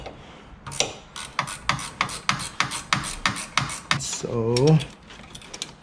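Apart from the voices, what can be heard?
loosening a bolt on a Nissan 370Z turbo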